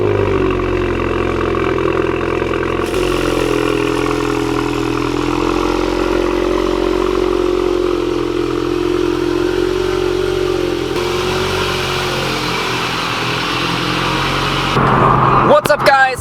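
The engine of a 2018 Volkswagen Golf R Mk7.5 runs at a steady, loud, droning idle after a cold start. The tone shifts slightly partway through, and a brief clatter comes at the end.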